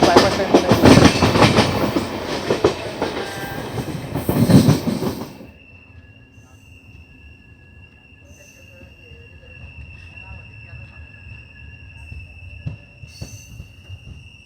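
Maharashtra Express on its first LHB-coach run near Bodhwad station, rolling loudly past with rattling wheels for several seconds, then fading to a quieter distant rumble with faint tonal hums.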